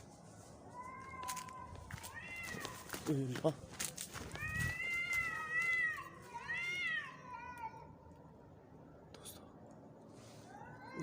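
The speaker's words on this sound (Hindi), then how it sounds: "बिल्ली की आवाज़ है।" A cat meows repeatedly in several drawn-out, wavering calls, fairly close, with a few bumps and footsteps around it. Someone speaks quietly in Hindi in parts of the clip.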